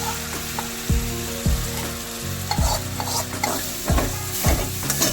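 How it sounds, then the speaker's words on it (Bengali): Dhoka lentil batter fries in hot oil in a wok, a loud continuous sizzle broken by repeated knocks and scrapes of the spatula against the pan at an uneven rhythm, close by, with no talking. "তেল গরম হয়ে গেলে এবার আমরা এতে আগে থেকে মিক্স করে রাখা ধোকাটা অ্যাড করে"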